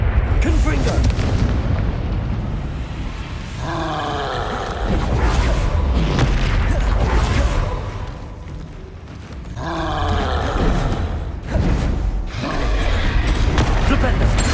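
Booming Confringo blast spells fired in combat in Hogwarts Legacy, heavy explosive rumbles and roars rising and falling in waves, loud and mixed with game sounds and a player's voice.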